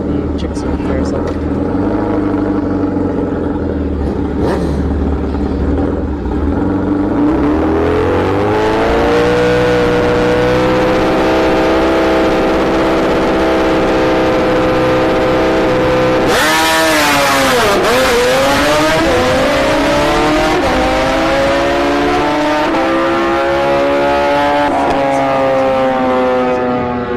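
Motorcycle engines rev up and scream through rising gear changes on a no-prep drag strip at Orlando Speed World, a Suzuki Gixxer among them, loud and sustained, with a second surge midway and speech heard over it.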